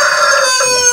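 A Brahma rooster crows loudly and close by in one sustained, strongly harmonic call that breaks briefly near the end, with no talking.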